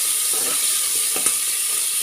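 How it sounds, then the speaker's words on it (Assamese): Chopped carrots and peas fry in a pan with a steady, close sizzle and hiss. A couple of brief stirring scrapes cut through. "এতিয়া এয়া ভাজি থাকিম এনেকৈ।"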